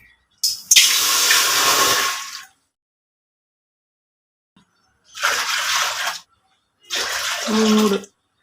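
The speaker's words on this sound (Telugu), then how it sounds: "6 కప్పులు వాటర్ పోసుకున్నాను" Water is poured from a cup into a thick pot in three separate bursts, each a loud close splashing gush lasting one to two seconds, separated by silent pauses.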